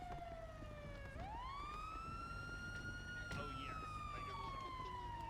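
A video game police siren wails, sweeping down, then climbing and holding a steady high tone, joined briefly by a second warbling siren, with faint chatter and rumble underneath.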